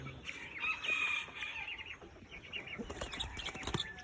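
Clucking from an Australorp-bantam cross chicken, a small but heavy-bodied bird with big feet, in a run of short calls at close range over faint background noise.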